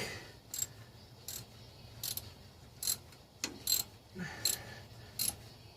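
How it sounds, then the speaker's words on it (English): A torque wrench tightens bolts on a 1977 GMC pickup, making a series of about nine short, crisp ratcheting clicks at uneven intervals, close and fairly quiet. "I do have my torque wrench out. I'm going to be putting bolts back."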